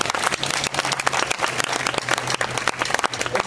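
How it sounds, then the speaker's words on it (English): A church crowd claps and applauds steadily, with dense hand claps filling the room at a fairly close, lively level. "let's give God a hand clap of praise"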